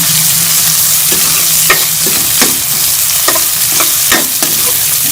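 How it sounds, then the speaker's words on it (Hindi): Onions fry in a pan with a steady loud sizzle, while a spoon scrapes and stirs in sharp repeated strokes over it; no one speaks. "एक से 2 मिनट इसको मैं फ्राई कर लूंगी। प्याज हमारे सॉफ्ट हो गए हैं।"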